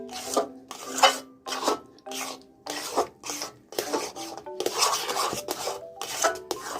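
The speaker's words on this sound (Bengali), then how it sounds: "ভালো করে নাড়তে হবে।" Semolina halwa with powdered milk is stirred in a pan, a spoon scraping the pan bottom in repeated rasping strokes at an even rhythm, close and clear with no talking.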